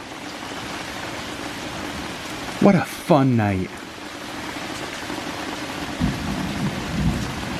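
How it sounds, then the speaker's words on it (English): Steady rain falls outside a beach hotel room in Ixtapa, Zihuatanejo, heard through a cracked-open door during a thunderstorm, a continuous wash of hiss with occasional low rumbles; a voice briefly speaks over it. "We have like the door cracked and we're just listening to the rain. Every now and then there's still lightning and thunder."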